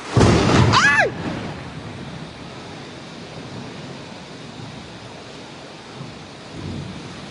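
A loud crack of thunder opens, then steady heavy rain hisses on for several seconds with a faint low rumble near the end, during a storm at an outdoor mor lam concert stage in Thailand.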